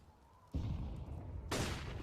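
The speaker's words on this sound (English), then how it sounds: "It's going to be an incendiary into the Mini." A sudden burst of fire from an incendiary grenade in Counter-Strike, a loud whooshing roar that starts abruptly after a quiet moment and swells again near the end.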